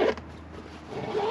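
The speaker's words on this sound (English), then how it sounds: "But it unzips, rolls up, buttons up, zip it back up." The canvas of a pop-top truck camper on a Toyota Tacoma being zipped shut on a cold day in Colorado, one close, rasping zipper pull lasting about a second.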